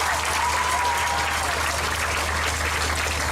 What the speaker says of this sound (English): Can we have a round of applause for our admins,